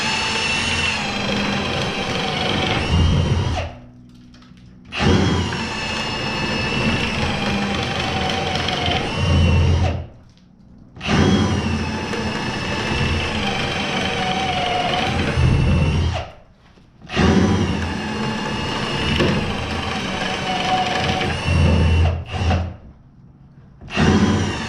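A power drill with a 3/4 inch bit bores through 2x4 wall studs in four long, loud whining runs of several seconds each, separated by short pauses of near silence.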